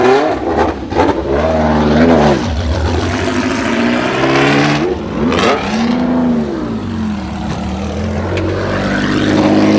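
Classic cars on the Tour Auto rally pass close by one after another, engines swelling and fading in loud overlapping sweeps with rising and falling revs, no voices.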